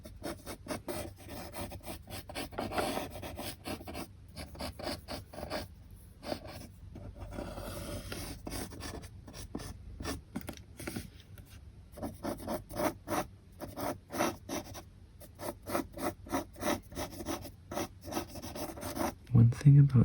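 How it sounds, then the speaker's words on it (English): Pen drawing on thin ATM receipt paper, a steady, close, quiet scratching and rubbing of quick strokes that continues without a break and with no voices. "drawing on this receipt paper"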